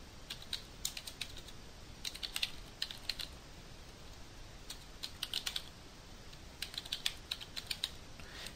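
Typing on a computer keyboard comes in quick bursts of light clicking, separated by short pauses, close and fairly quiet over a faint background hiss.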